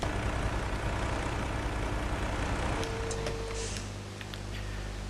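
A tractor engine runs in the Farming Simulator 17 video game, a steady low, rumbling hum that drops slightly in level near the end, with faint clicks over it.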